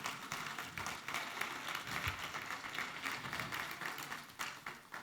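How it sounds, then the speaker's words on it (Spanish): Faint applause from a congregation at a church gathering, a steady wash of many hands clapping that continues for the whole stretch at a distance. "un aplauso para las princesas del Señor"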